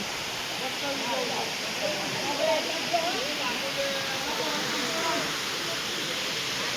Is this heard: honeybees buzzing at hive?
no